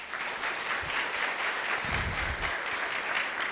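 A church audience claps warmly in a steady wash of applause that holds evenly for the whole few seconds, dense and fairly close.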